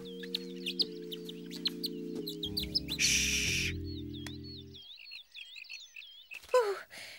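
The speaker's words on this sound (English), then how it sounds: "Birds aren't frightening. They're nice." Cartoon birds chirp and tweet in quick, repeated bright calls alongside a sustained musical tone and a brief swishing burst, followed by a few louder squawks near the end.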